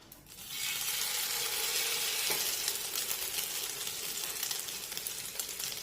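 An egg-battered bread slice fries in a pan, giving a loud, steady sizzle that runs close and continuous from just after the start to the end, with no voices.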